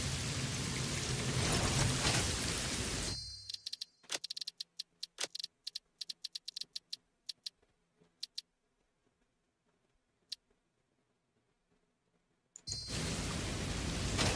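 Rain in a video game pours as a loud, dense broadband hiss at the start and end, with a quieter stretch of scattered ticks and drips in between.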